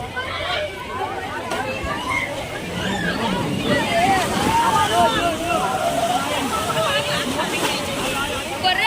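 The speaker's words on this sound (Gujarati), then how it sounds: "મોટા મોટા લહેર આવે" Big sea waves slosh and surge at Gomti ghat in Dwarka, a steady watery roar heard close by under a busy crowd and people talking.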